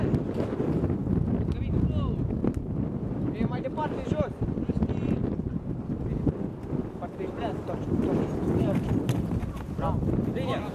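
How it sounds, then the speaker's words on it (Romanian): Gusty wind buffets the microphone in a steady roar at an outdoor under-19 youth football match while people shout and talk over it. "Bate vânt."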